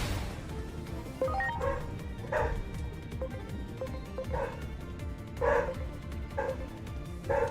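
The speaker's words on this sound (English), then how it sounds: "I don't know if you hear those dogs, but they're going crazy." Several dogs bark and yip in repeated bursts at mid distance, excited and agitated, over a steady bed of background game music and noise.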